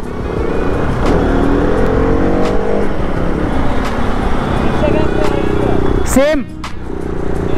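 A motorcycle fitted with an aftermarket exhaust, ridden on a highway trip from Roorkee to Dehradun, gives a steady engine drone with rising revs and a sharp sweep near the end, while a rider talks over it throughout.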